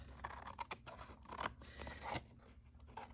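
Scissors cutting around a paper journal card, a quiet series of crisp snips and light scratchy paper sounds close up, irregular in rhythm.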